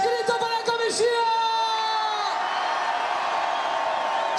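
A festival crowd at an outdoor concert in Cacheiras, Teo, shouts and whoops together in one loud, sustained burst that fades into a steady roar.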